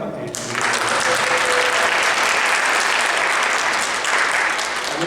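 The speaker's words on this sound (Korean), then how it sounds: "환영의 박수 한번 드리겠습니다" Applause from a church congregation at Sunday worship greeting a new member; a voice speaks briefly at the start, then full, sustained clapping takes over and holds steady to the end.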